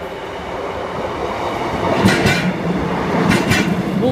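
A train pulls away from a station platform on a line served by Peterborough–Sleaford services, with a steady rolling rumble and brief bursts of hiss or squeal, continuous and moderately near.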